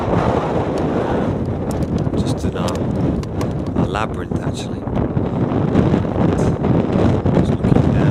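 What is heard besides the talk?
wind outdoors on a windy day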